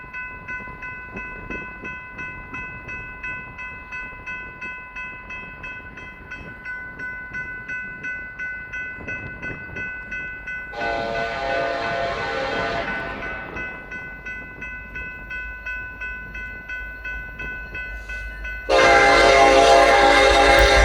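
A BNSF freight train passes the Robin Road crossing in Douglas, Wyoming, blowing its horn in long blasts over a rumbling, rolling track noise, with two louder, nearer surges late in the passage.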